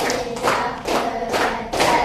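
Schoolchildren in a classroom clap as a group on the teacher's count, producing a quick, even run of crowded handclaps that sound close and fairly loud.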